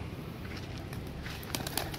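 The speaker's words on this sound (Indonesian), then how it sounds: "merpati-merpati minta dikasih makan" Soft low cooing of pigeons over a dense background murmur, with a few faint flutters and clicks near the end.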